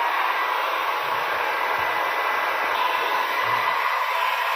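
A hair dryer blows steadily on its cool setting, drying freshly washed hair with a continuous close whoosh that neither rises nor falls.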